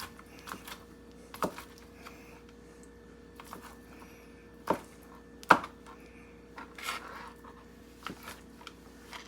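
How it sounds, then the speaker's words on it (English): Cooked chicken roughly chopped with a knife on a board: a few scattered, sharp knocks spaced irregularly, fairly close and quiet, with no talk. "Chicken, just rough chop it."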